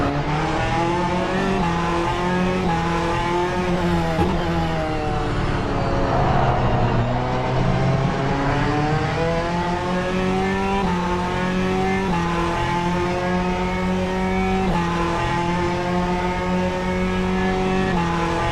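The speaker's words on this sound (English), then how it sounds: "Onboard camera on Ben Borman in the hypercar." Simulated hypercar racing at Road America heard from the onboard view: a loud, continuous engine drone rising and falling through gear changes, with tire squeal, steady throughout without talk.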